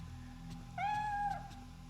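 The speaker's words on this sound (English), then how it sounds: "I hear her. I hear the cat." A cat in the video game Fatal Frame III lets out a single drawn-out meow, clear and fairly close, over a steady low ambient hum.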